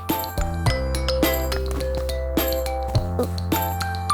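A small bell on a homemade bird seed ornament jingles and tinkles repeatedly, bright metallic rings recurring in quick irregular bursts, close and fairly loud, with steady ringing tones in between.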